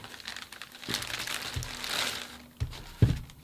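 The plastic bag around a new Panasonic DMC-FZ2000 camera crinkles softly up close during unboxing, with light rustling and a few small taps and knocks.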